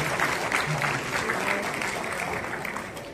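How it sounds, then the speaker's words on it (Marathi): At an honoring ceremony, a crowd gives hearty applause, many hands clapping in a steady, full wash that fades slightly toward the end. "एकदा जोरदार टाळ्या."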